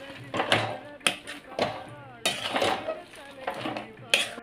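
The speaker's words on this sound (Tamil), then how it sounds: "கடலையை கொட்டி நல்லா அதோட கலக்கிக்கணும்" Peanuts are stirred into hot syrup in a pan for kadalai mittai. A spoon scrapes and clanks against the pan in repeated strokes, up close, alongside a soft sizzle.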